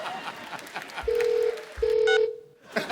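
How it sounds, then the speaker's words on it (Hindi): Telephone tones while redialing a call, two loud sustained electronic beeps with a brief gap between them over background chatter and studio noise, ending with a short burst of tones. "फोन काट दिया, मैं दोबारा लगाता हूँ"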